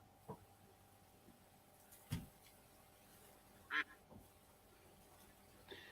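A duck quacks in a billiards game, a few faint, brief calls spread over several quiet seconds with little else around them.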